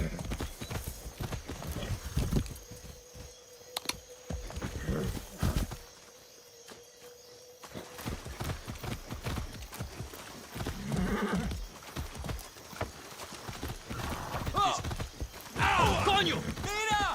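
Hooves clip-clop steadily while a horse whinnies in the video game Far Cry 6, with occasional speech over the top.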